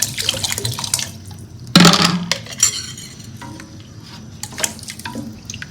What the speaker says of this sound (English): I need to add a bit of water, and I need to let it boil for at least 5 minutes.